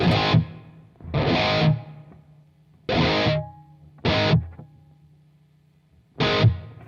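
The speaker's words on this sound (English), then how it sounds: "I'm going to add this reverb in. It's going to be very subtle" Distorted electric guitar chords struck five times with pauses between them. Each chord rings briefly, and a faint, roomy reverb tail lingers after it.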